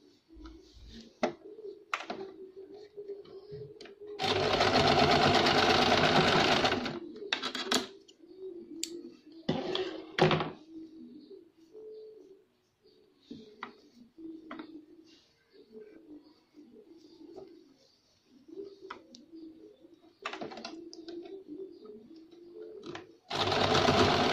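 Sewing machine stitching a summer frock runs in bursts, with one loud sustained run and several shorter ones between quiet gaps, close and alone with no talk.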